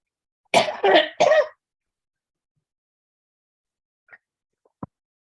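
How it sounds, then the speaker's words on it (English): Three quick, sharp coughs in a row, close and loud, followed by silence and a couple of faint small clicks. "I need to cough. I'm going to cough in a second."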